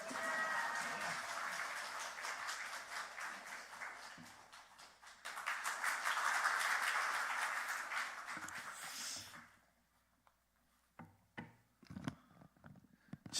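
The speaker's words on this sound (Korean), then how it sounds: "우리 할렐루야로 하나님께 영광의 박수를, 환영의 박수를 함께 보내드리면 좋겠습니다" A church congregation applauds to welcome a pastor at a Sunday worship service. Steady, dense clapping lasts about nine seconds, then cuts off to quiet with a few scattered knocks and taps.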